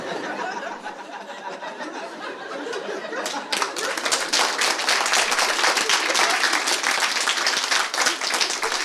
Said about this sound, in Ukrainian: Тобто тут овація, да, на слові пахую.